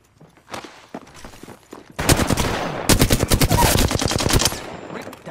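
Heavy automatic gunfire in an Apex Legends arena match, starting with scattered shots and footsteps, then swelling into a loud, sustained rapid-fire barrage of overlapping weapons.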